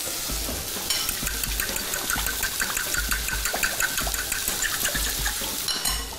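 Vegetables sizzle and crackle steadily in hot oil, a continuous frying hiss with a faint low hum underneath.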